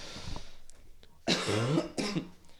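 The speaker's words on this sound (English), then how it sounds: "Excuse me. Cough break." A few close, sharp coughs, a light throat sound at first, then two harsher bursts a moment apart, with no talking.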